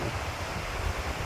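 Strong wind gusting by a lake, a steady low roar of rushing air buffeting the microphone close up, broad and unbroken for the whole moment with no voices.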